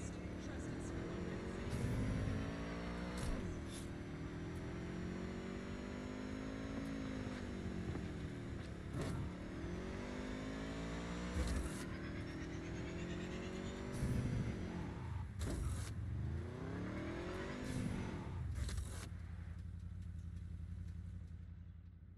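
A car driving in Cyberpunk 2077, its engine rising and falling through repeated gear shifts, steady and moderately loud beneath someone talking.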